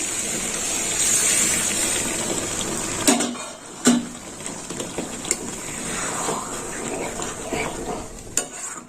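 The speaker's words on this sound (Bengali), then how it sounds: "একটু কষে দিয়ে দিলাম বাটি ধোয়া জল।" Bowl-rinsing water poured into a simmering red potato curry in a pan: a loud, steady sizzling hiss for about three seconds, then quieter bubbling with a few sharp spoon knocks against the pan.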